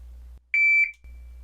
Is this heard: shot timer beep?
yes